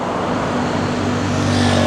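Traffic flows along the EDSA Busway at Guadalupe in Metro Manila, a steady close roar of engines and tyres with a low droning hum from heavy vehicles, continuous and loud.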